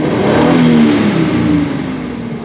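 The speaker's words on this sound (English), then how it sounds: "boom, wide open throttle, release" A 2001 Chevy Silverado engine with a bad misfire revs hard at wide open throttle, loud and close, holding a steady roar before easing off as the throttle is released.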